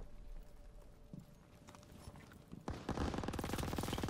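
Heavy machine gun fire in a Call of Duty WW2 campaign battle in a ruined town breaks out abruptly partway through, a loud, dense stream of rapid bursts over earlier scattered distant shots and ambient rumble.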